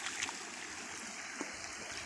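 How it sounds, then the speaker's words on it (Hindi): Floodwater runs out of a flooded rice paddy field after days of heavy rain, a steady broadband rushing and trickling flow heard alone at moderate distance, with no talk. "देखिए कैसे पानी जा रहा है खेत से"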